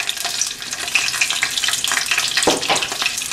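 Green chilies sizzle in hot oil already holding bay leaves, cinnamon stick, cloves and cardamom for a kadai vegetable curry; a steady close crackling fry with a brief louder spatter burst near the end, no talking.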